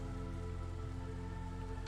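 A rainstorm in the city-building game Against the Storm gives a dense, steady patter of rain under a low sustained tonal hum, unbroken and without speech.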